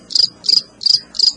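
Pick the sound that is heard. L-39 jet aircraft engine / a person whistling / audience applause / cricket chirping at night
cricket chirping at night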